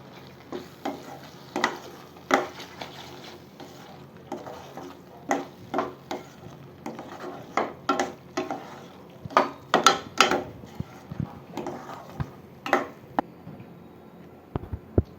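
A spoon stirring fresh cream into paneer butter masala in a pot, a string of irregular scraping and tapping knocks against the pan over a faint simmer, close and clear with no talk.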